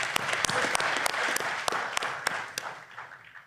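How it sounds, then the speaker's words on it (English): An audience applauding at a hockey team's press conference, a dense burst of clapping from many hands with a few sharp louder claps standing out, gradually thinning and fading toward the end. "Let's have a round of applause."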